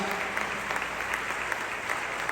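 Steady, dense applause from a large church congregation, filling the whole moment without a break, sustained and fairly even in loudness.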